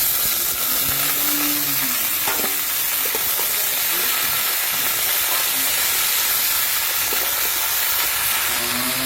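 Onions, green chilies and water lily stems frying in hot oil give a steady loud sizzle and hiss throughout, with faint stirring clicks.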